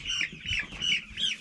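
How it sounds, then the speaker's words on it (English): Several cockerels on pasture call in quick succession, harmonic crowing and clucking repeating about every third of a second, fairly close with faint farm ambience beneath. "These are all cockerels, this batch."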